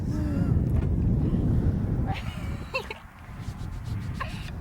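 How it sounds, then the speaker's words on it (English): Gusty outdoor wind buffeting a microphone, a loud low rumble that swells, drops away and returns, with brief faint voices and small knocks in the gaps. "think the wind kicking in might Nice work. affect the audio though"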